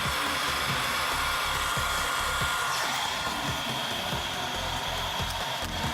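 A heat gun blows in short bursts of heat onto Arlon cast vinyl film while it is laid into a recess without stretching. It makes a loud, steady, close airy roar that runs unbroken throughout, with no talking.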